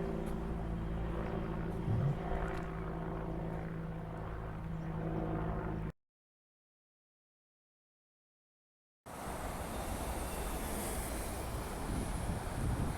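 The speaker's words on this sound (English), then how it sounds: "Let's zoom into that helicopter in the sky flying above." Steady helicopter engine drone overhead with wind noise, broken by a few seconds of silence before the rumbling aircraft sound returns.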